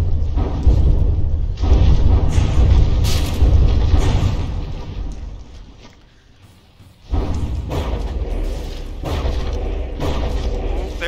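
Battleship turret guns firing in the naval combat game From the Depths, loud deep booms and heavy thuds rolling through the first half, a brief lull, then another powerful blast followed by sustained rumbling.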